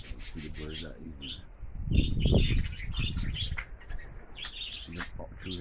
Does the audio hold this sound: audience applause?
no